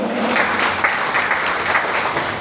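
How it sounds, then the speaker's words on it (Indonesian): Congregation applauding at a church worship gathering, a steady dense wash of clapping that holds at a fairly loud level for the whole stretch with no pauses. "Beri tepuk tangan yang meriah untuk Tuhan."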